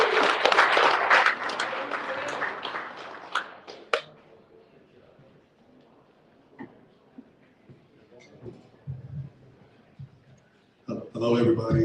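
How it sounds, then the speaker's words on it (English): Audience applause at a CryptoMondays fireside chat, a loud close burst of clapping that thins out over a few seconds into scattered claps, followed by quiet and then a person speaking. "Round of applause"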